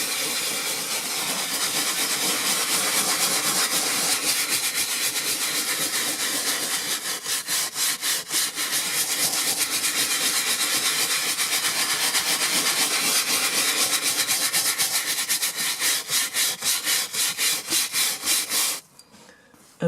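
A brush scrubs hard across a leather car seat in fast, steady back-and-forth strokes, a close, raspy swishing that runs continuously and then stops abruptly near the end.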